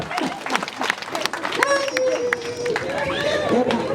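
A crowd at an Imani Parents' School event claps for the parents in a short burst of scattered applause, quickly joined and then overtaken by a loud voice speaking over the noise.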